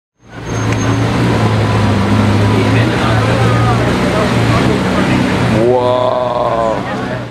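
A Viola Purple Lamborghini SVJ backing up, its engine giving a loud, steady rumbling idle close by, ending in a rising whoop of excited voices and whistles.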